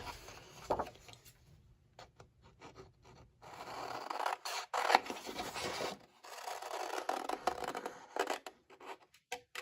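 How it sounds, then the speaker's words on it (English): Scissors snip through paper while trimming a pillow box for an Easter craft, giving close, quiet, irregular cutting and rustling sounds in short bursts with brief pauses. "I'm going to kind of just quick cut that off"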